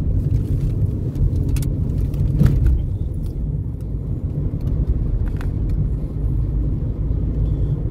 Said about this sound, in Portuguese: O movimento contrário aqui tá forte, muito carro aqui.